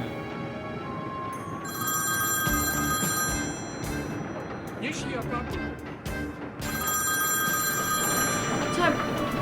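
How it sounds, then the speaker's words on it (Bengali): A landline telephone rings insistently in repeated bursts for a long stretch, with people talking and moving around it in a home. "কেউ যখন ফোনটা ধরতেছে না, এতক্ষণ ধরে বাজতেছে"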